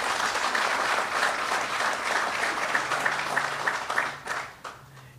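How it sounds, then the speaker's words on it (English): Applause from a ceremony crowd honoring a general at a military promotion event, steady dense clapping for about four seconds that tapers off near the end. "So a round of applause for General Hart."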